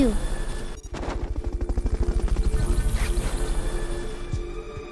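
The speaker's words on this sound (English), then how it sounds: "Fulton recovery subject confirmed onboard helicopter." Steady rhythmic thumping of a helicopter's rotor blades in Metal Gear Solid: Peace Walker, loud and close, with a brief sharp burst near the start.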